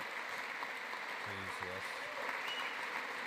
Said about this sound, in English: tonight Warren's clapping